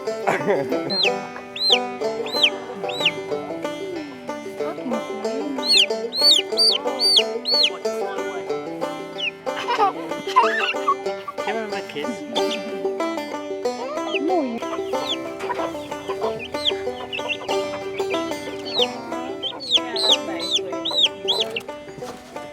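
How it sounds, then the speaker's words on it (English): Chickens cluck and squawk close by on a permaculture farm, with busy, overlapping calls running throughout while a person talks over them. "Chicken!"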